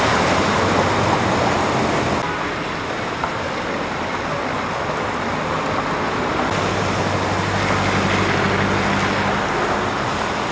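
Floodwater rushes after a storm near Argos in Argolida, Greece, a loud, continuous roar of churning water with a low rumble beneath it throughout.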